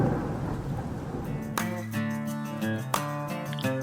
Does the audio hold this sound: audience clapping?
no